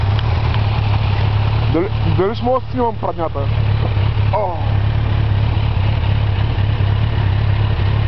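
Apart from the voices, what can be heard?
motorcycle engine idling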